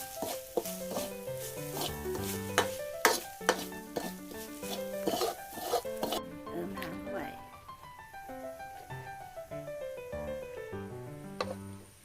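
Food stir-frying in a pan with repeated metallic scrapes and clinks of a utensil, a person talking over it.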